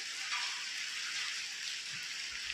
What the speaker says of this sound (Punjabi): ਲੋ ਜੀ ਆ ਗਿਆ ਆਪਣੇ ਮੀਂਹ